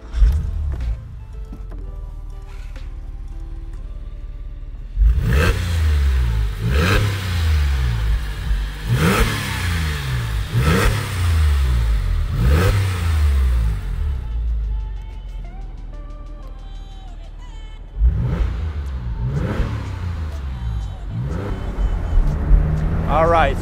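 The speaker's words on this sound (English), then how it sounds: "The unmistakable sound of a 911, it just sounds like no other car." A 2004 Porsche 911 Cabriolet on a test drive revs hard in repeated surging bursts, its engine rising and falling loudly up close, then easing off before one more strong pull near the end; a voice speaks briefly early on.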